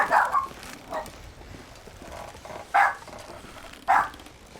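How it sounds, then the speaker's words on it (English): A dog barks in a room, four or five sharp barks spaced irregularly over a few seconds, fairly close, with quiet game sounds underneath. "Sorry, my dog thinks that every noise is somebody at the door"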